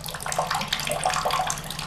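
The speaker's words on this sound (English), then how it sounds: "Water dripping." Water dripping in an apartment bathtub, a steady patter of small drips and trickling close by, continuous and moderately soft with no voices.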